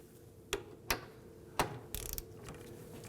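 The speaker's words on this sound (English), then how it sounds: "Let's go ahead and snug this down. I'm going to torque it to 46 foot-pounds." A torque wrench tightens a fuel tank strap bolt on a 2005-2009 Subaru Legacy 2.5L H4, giving a few sharp separate clicks and then a quick ratcheting burst, close and fairly quiet.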